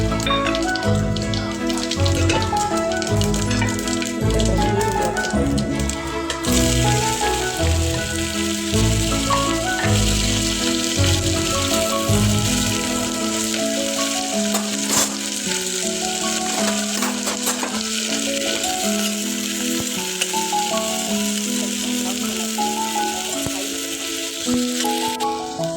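Whole spices, cinnamon, cardamom, star anise and bay leaf, sizzling in hot oil for veg biryani: a loud, steady crackle that carries on throughout.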